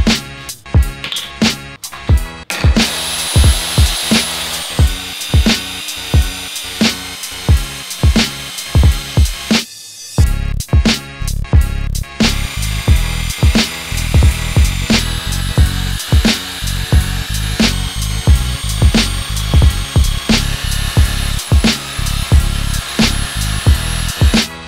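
Power sanding of an aluminium car wheel rim to prepare it for polishing, a loud continuous grinding whir broken by rhythmic scrapes and one brief stop midway, with no voices.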